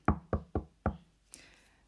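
Four sharp knocks on a hard surface in a steady, even rhythm, close and distinct, followed by a faint, brief rustle.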